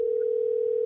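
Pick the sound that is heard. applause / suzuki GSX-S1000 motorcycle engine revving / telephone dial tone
telephone dial tone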